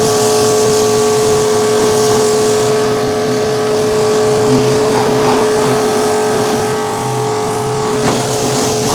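A Kolner KHPW 2700IFR pressure washer rinses a car, its motor droning loud and close with a steady tonal hum under the hiss of the spray, running continuously throughout.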